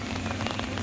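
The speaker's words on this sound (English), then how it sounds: "You know why? Because it's raining." Rain falling at Disneyland during Hurricane Hilary, a steady dense wash of droplets hitting surfaces, loud and continuous with no pauses.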